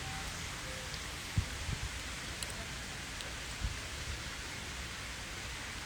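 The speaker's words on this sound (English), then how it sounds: "I especially love how the rain just comes down and essentially do a water change for the tank" Rain falls steadily on a 6000-gallon outdoor aquarium pond, a close, even hiss that fills the whole stretch, with a few soft low thumps scattered through it.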